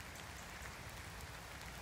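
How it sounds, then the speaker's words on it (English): Rain falls in the woods as a faint, steady hiss of drops pattering on leaves and ground, heard alone without voices. "it's raining, I don't like it, I'm going to get wet."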